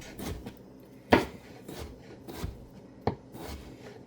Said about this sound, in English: Dill pickles. And cut them in 4 spears. And just chop them up.